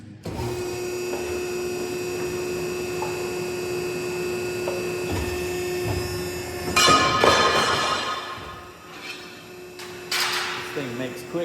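Old Piranha ironworker punching holes in metal for a race car dry sump tank, a steady machine hum broken by two loud clanking punch strokes, one midway and one near the end.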